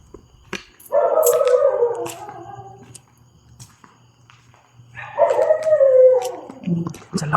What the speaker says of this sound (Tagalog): Sobrang ingay ng aso.